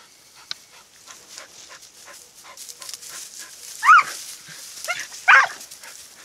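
Spanish Podenco Orito hunting dogs working through brambles, with soft panting and whimpering throughout and two sharp, louder barks or yelps standing out midway and near the end.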